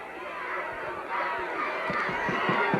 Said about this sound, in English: the crowd over here exhorts the defense to come on